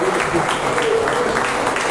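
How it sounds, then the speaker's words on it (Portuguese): A church congregation breaks into applause during worship, a steady wash of clapping that sits close and fairly loud, with a faint voice or tone carrying underneath. "salve de palmas"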